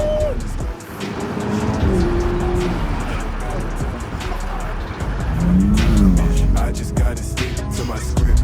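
A supercar accelerates hard, its engine roaring loud and close with rising and falling revs and a gear change, while people talk over it inside the car.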